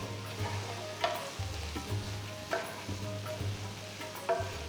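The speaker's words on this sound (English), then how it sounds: "Mix everything well till the tomatoes have become nice and mushy" A spoon stirs Kashmiri red chilli, coriander and cumin powder into a tomato mixture frying in a pan, with a soft continuous sizzle and a few light scraping knocks of the utensil.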